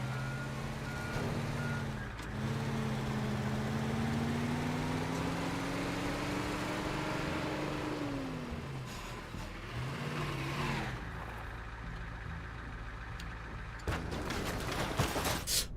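A vehicle in the video game Teardown reverses with a loud, steady series of reversing beeps over a droning engine whose pitch rises and falls as it drives off, then ends in a burst of rough noise.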